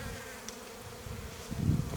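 Honey bees buzz steadily around an open beehive during spring cleaning, a close, continuous hum that swells slightly toward the end.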